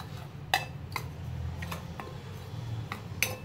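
Metal spoon clinks against a bowl while dry mustard powder and plain chili powder are stirred together, a few sharp taps spaced over a low steady background hum.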